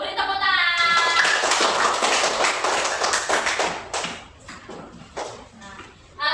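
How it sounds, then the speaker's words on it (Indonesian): A classroom of students clapping for a group presentation, a dense burst of hand claps that thins out into scattered taps, with a teacher's voice speaking over the start. "Beri tepuk tangan."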